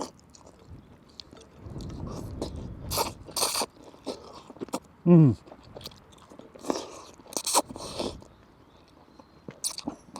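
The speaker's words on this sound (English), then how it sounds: "Bit of noodle sucking." Noodles cooked in a small camping pot on a hilltop walk being eaten, with close crunching, chewing and slurping bursts spread across the stretch, one sharp suck near the middle, and a brief murmur of appreciation.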